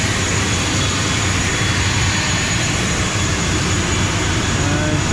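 ATR turboprop airliner engines running at a Borneo airport, a steady loud roar and whine filling the whole clip with no breaks, close by.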